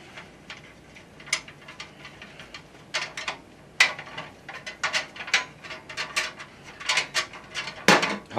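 Screws being removed from the back of a mini-ITX PC case, heard as a run of small metallic clicks, ticks and ratcheting turns at close range, sparse at first and then quicker and louder toward the end, with no talking.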